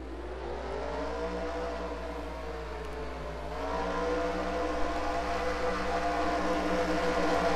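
Stock cars roll off at the start of a NASCAR-style racing video game at Darlington, a steady droning chorus of engines that grows louder and fuller partway through, with no talk over it.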